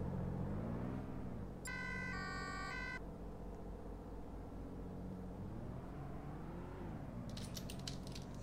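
An ambulance siren wails steadily amid highway traffic, with a brief bright electronic tone pattern partway through; moderately distant, no voices.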